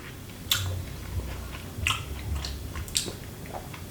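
Grilled lamb chop chewed up close: quiet, moist mastication with a few crisp clicks and bites scattered through it.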